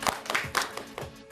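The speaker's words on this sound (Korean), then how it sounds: "박수 한번 부탁드립니다." Scattered claps from an audience in a Korean fashion-lecture hall, welcoming a volunteer on stage; a handful of distinct, uneven hand claps over about a second, fairly close, with no talking.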